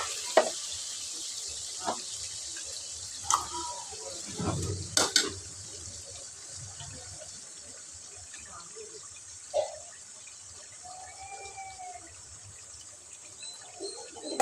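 Roasted chicken curry with ginger-garlic paste frying in a pan: a steady close sizzle with occasional clinks and scrapes of stirring.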